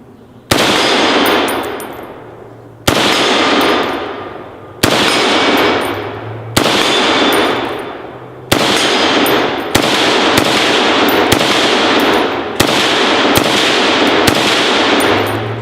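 AR10 rifle in .308 firing at steel plate targets: loud, close shots with sharp clangs, spaced out at first and then coming in quicker succession, each ringing briefly before decaying.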